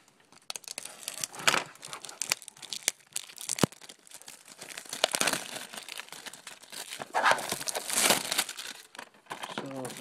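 Plastic outer wrapping is crinkled and torn off a Sony PS3 game case for Deus Ex: Human Revolution, close and quiet. Scattered bursts of crackling and ripping come at an irregular pace.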